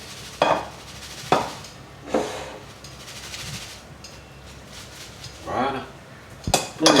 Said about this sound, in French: On les verse dans un plat